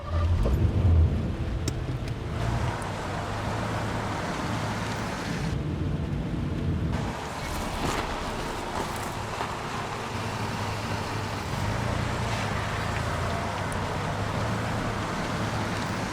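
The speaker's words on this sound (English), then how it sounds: "Let's start the car." A car engine in the Heavy Rain video game starts with a loud opening rumble, then settles into a steady low idle running under rainy, stormy ambience, with a brief change in the middle.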